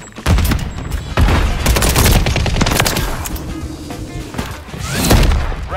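Rapid SMG gunfire in a first-person shooter, loud and close, with dense bursts of automatic shots rattling almost continuously and a final heavy flurry near the end.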